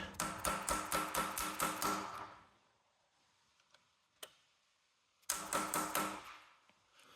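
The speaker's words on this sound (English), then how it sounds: "this is probably a tapered pin. So we're gonna try tappy tapping it this way to see if she come out" A hammer taps a tapered pin in a Colchester C17 lathe quick-change gearbox: two bursts of about eight quick, even metallic taps each, close, separated by near silence with one isolated knock.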